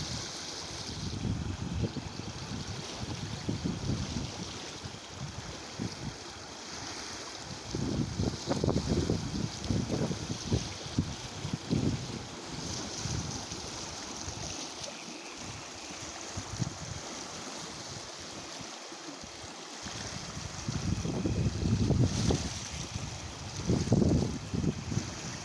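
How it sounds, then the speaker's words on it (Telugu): A stream between Itikyala and Chandapuram road flows in spate after morning rain, a steady, dense rush of turbulent water with surging swells, moderately loud and continuous with no voices. "ఇటిక్యాల మరియు చందాపురం రహదారి మధ్య ఉన్న వాగు ఉధృతంగా పారుతుంది"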